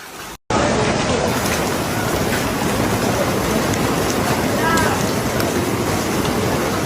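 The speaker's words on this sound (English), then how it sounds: "a strong hailstorm hit Paralimni, Cyprus, bringing intense hail and rain" Intense hail and rain during a strong hailstorm in Paralimni, Cyprus: a loud, dense, steady roar of pelting drops after a brief cut at the start, with no talk.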